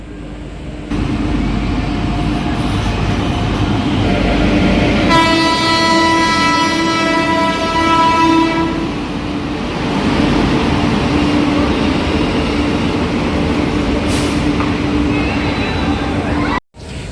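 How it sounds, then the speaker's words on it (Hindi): The Tapti Ganga Express pulls into platform 1 at Azamgarh railway station: a loud, steady rail rumble with a long, sustained horn blast in the middle, while a voice talks nearby. "तो 1 नंबर पर ताप्ती गंगा एक्सप्रेस आ रही है।"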